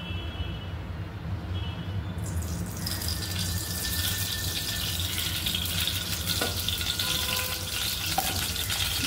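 Oil heats in a kadhai for a Maharashtrian cumin-mustard tadka for brinjal bhaji. It starts as a quiet low hum, then a bright, steady sizzle swells in after about two seconds, with a couple of faint metallic clinks.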